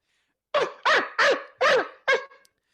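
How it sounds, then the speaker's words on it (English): Five loud, sharp barks come from a dog at a window across the street, evenly spaced and punchy, with no other sound between them. "A dog across the street hears this and comes to the window and barks out to Murderer."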